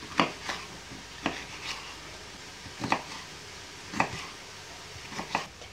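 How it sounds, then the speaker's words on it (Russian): Coarsely grated carrot sautéing in hot oil over medium heat in an uncovered pan, with several sharp, spaced scraping stirs over a faint background sizzle and no talk. "выкладываю в горячее масло перетертую морковь на крупной терке. Морковь пассируем на среднем огне при открытой крышке."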